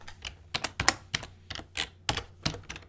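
Computer keyboard typing, close and clear, about a dozen quick irregular key clicks in short bursts with brief pauses between them, no voices over it.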